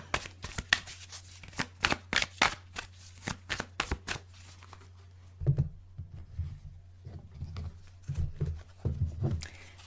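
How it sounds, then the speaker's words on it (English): Tarot cards are shuffled in quick riffling bursts, rapid and close, then a softer shuffle with a low hum underneath. "These cards do not want to be shuffled today."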